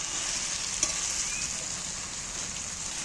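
Continuous hissing sizzle of jackfruit curry cooking in a pan, steady and close, with a brief clink of a utensil partway through.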